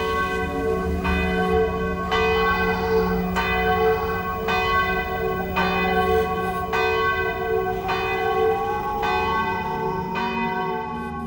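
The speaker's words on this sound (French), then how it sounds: "de ma tour, les cloches vous appellent" Church tower bells, a small 50 kg bell and a large 700 kg bell, ring in a steady, evenly spaced peal, each strike roughly a second apart and leaving a long resonant hum behind it.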